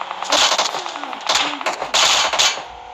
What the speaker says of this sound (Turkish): Bana sıkıyorlar.